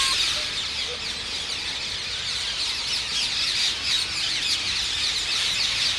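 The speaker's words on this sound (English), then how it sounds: "that is an evening parakeet assembly" Rose-ringed parakeets gather at an evening roost in eucalyptus trees, a dense, distant chorus of overlapping shrill squawks and chatter forming a continuous wash of calls with no talking.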